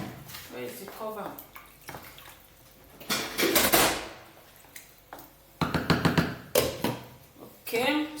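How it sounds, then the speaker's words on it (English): Dishes, pots and pans clatter and clink in a home kitchen as they are washed, with sharp metallic knocks and splashing between stretches of someone talking. "so let me go and wash my dishes now"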